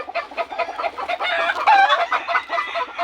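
A backyard chicken clucks loudly and close by in a steady, continuous stream of rapid clucks with no talking.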